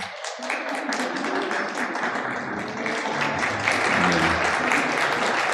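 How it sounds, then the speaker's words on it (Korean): A church congregation breaks into warm applause to welcome a visitor, a dense, steady wash of many hands clapping close by that holds strong throughout. "우리 박수로 환영하겠습니다"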